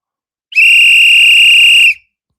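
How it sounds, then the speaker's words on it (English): A single loud whistle blast on a basketball podcast's live show, held steady for about a second and a half, standing alone in silence. "Big whistle for Keno"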